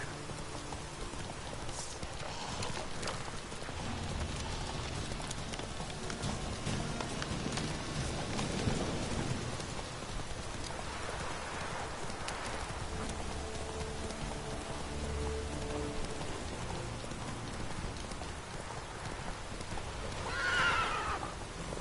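A horse galloping in a video game, heard as a steady drumming of hooves with a rain-like wash over it and a whinny near the end, with no talking.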